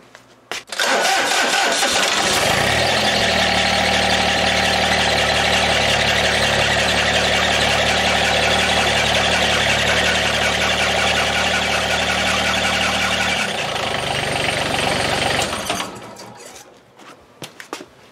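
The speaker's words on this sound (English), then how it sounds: "So I'm going to just start the tractor now" A GC2300 compact tractor is cranked and fires up, then idles with a steady, loud, even engine note for about twelve seconds before shutting off and fading to quiet.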